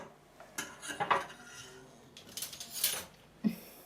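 Metal spoon clinking against dishes in a home kitchen, a few sharp scattered clinks and taps over several seconds, close and fairly clear with a quiet background.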